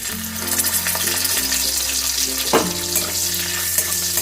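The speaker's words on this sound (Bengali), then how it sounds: "কিশমিশটা দিয়েও আমি একটুখানি ভেজে দেখো কিশমিশটা ভাজা হয়ে গেছে" Steady crackling sizzle of food frying in oil, with a faint clink of a utensil about halfway through.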